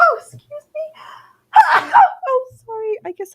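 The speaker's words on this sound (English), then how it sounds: "That was a big sneeze." A single loud, forceful sneeze bursts out amid a woman's speech, with talking before and after it.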